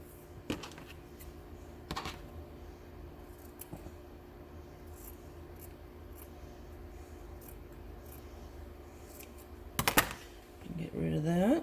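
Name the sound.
scissors cutting out a piece for an Easter gnome craft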